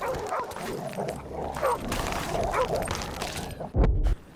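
An attack dog in a Call of Duty match barks, yips and whimpers at close range over game noise, ending in a loud heavy thud.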